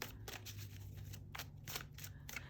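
A deck of tarot cards being shuffled in repeated riffling bursts, close and fairly quiet over a low steady hum, with no talking.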